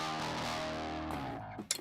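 A heavily distorted bass guitar holds a gritty, buzzing note for over a second before choking off with a few scrappy string noises.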